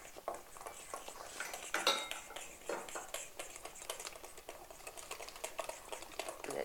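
Whisk beating buckwheat blini batter in a bowl, fast repeated metallic ticking and scraping strokes, close and steady throughout without pause.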